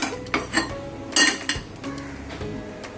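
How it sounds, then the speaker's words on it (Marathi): A metal pan is set down on a home kitchen stove beside another pan of roasted makhana, giving several close, clanking knocks and clinks followed by fainter scraping. "तर आपण दुसरी पॅन ठेवूया, हे साईडला ठेवू।"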